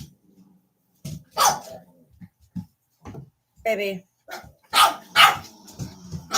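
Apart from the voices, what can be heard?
dog barking at a wall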